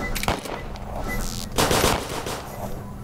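Gunfire in the Roblox video game sounds as a fast volley of close, sharp shots over a busy game background, with a second burst a little later.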